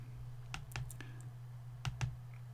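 Several crisp computer mouse clicks ring out at a desk, a pair near the start and another pair near the end, close and distinct over a faint steady hum.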